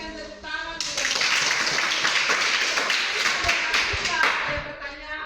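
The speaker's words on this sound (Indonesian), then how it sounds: "Kita berikan tepuk tangan." A classroom group claps for a student team after a presentation in a cooperative-learning lesson: dense, close hand clapping starting after a short pause and holding steady for several seconds, with light chatter mixed in.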